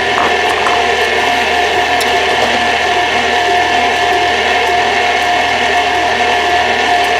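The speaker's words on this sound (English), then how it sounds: "So if you look inside the mixer right now, it's kind of a clump of dough." Stand mixer with a paddle beating a clump of sea-salted chocolate cookie dough, a loud continuous mechanical whir and rattling grind that stays steady throughout, with no talk.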